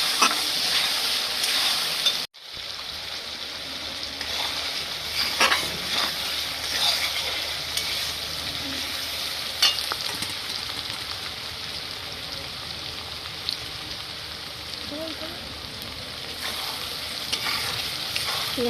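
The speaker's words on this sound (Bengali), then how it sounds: "পেঁয়াজটা লাল লাল করে ভেজে নিতে হবে।" Two large onions fry in a pan until browned for a chicken curry, a steady close sizzle with stirring scrapes throughout and a brief cut near the start, no voices.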